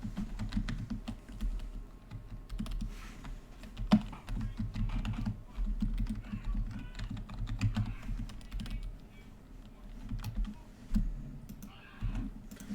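Typing on a computer keyboard, with dense, irregular clicking keystrokes running steadily throughout at close range and fairly quiet, plus one sharper key strike partway through; no voices.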